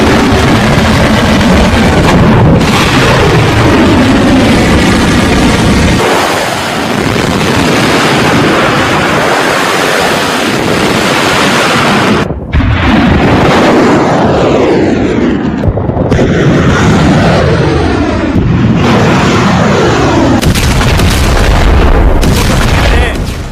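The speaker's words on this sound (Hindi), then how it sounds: "1200 मिसाइलों से हमला।" Missile attack explosions in news footage: loud, continuous rumbling booms with roaring blasts layered over one another, broken by a few abrupt cuts, dense and overwhelming throughout without clear speech.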